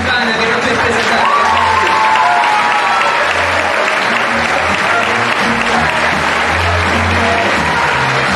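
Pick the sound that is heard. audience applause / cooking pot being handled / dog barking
audience applause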